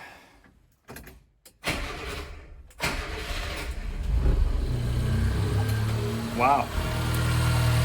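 A Subaru Sambar engine cranks and catches after a few clicks and brief silences, then settles into a steady, fairly close idle with a short exclamation over it.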